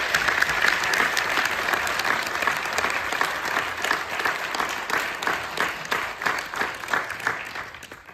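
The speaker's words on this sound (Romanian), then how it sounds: "pe care v-aș ruga să-l mai aplaudăm." A packed cinema hall audience applauds to honor the founder of a Romanian rock band. Dense, steady clapping fills the room and continues throughout, thinning slightly into more distinct claps near the end.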